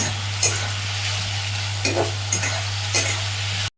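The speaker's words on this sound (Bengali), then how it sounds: "পেঁয়াজগুলোকে হালকা লাল করে ভেজে নেবো" Onions fry in a pan, giving a steady low sizzle under a constant hum, with three distinct stirring scrapes spaced out over a few seconds.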